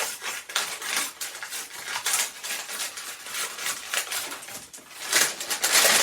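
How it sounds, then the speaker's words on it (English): A paper bag is pulled apart at its glued adhesive flap, heard up close as a run of crisp tearing and crackling bursts that rise and fall unevenly and swell louder toward the end. "I am going to just take the bag apart at the adhesive flap"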